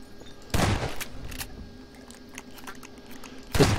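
Gunfire in a Garry's Mod Prop Hunt match: two loud bursts of shots, one early and one at the very end, with scattered fainter clicks and pops in between.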